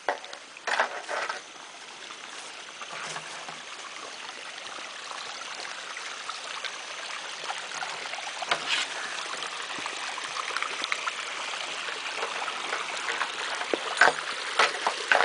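Water from a stream in the Serra dos Cristais flows and trickles over rocks as a steady broadband rush, close and continuous, with a few louder splashes and no talk.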